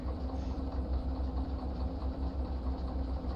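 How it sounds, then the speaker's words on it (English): Locomotive engine running inside the cab in the Derail Valley train game, a loud, steady low rumble with a constant mechanical drone throughout, no talking. "Okay, so it is loud in this engine."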